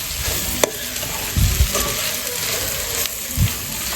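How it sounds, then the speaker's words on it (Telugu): Masala for bendakaya pulusu, an okra and tamarind curry, sizzles in a cooking pan under a steady frying hiss, with a sharp clink and a few soft scraping stirs against the pan. "ఆ మసాలా కూడా వేసి"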